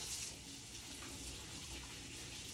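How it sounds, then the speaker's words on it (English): Tap water runs steadily into a sink during handwashing, a soft continuous hiss and splash with no breaks, faint and even throughout. "I'm going to leave my water running"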